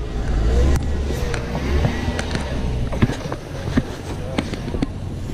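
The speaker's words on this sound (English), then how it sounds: "Rear wheels are spinning." Pickup truck stuck and reversing with its rear wheels spinning and four-wheel drive not engaged; a steady engine drone with scattered sharp knocks and thumps from the wheels, people talking over it.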